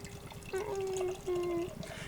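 Verboten bourbon barrel stout pours into a glass in two short gurgling streams, close and moderately loud, with faint background noise.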